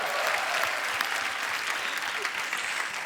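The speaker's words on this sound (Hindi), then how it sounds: "जोरदार तालियां हो जाए एक बार" Studio audience applause on the Hindi comedy talk show The Kapil Sharma Show, a dense, steady roar of clapping that stays loud and even from start to finish.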